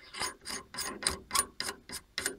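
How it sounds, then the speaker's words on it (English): Threaded AR-15 A2-style barrel nut being hand-tightened onto an upper receiver with greased threads, giving eight evenly spaced rasping metal scrapes, one per turn, close and fairly quiet with no talking. "Install the barrel nut and hand tighten."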